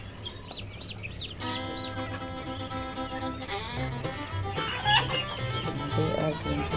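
Small chickens cluck and peep on a goat farm, with ducks kept alongside them; repeated short calls stack up close by over a steady low background hum, with no talking.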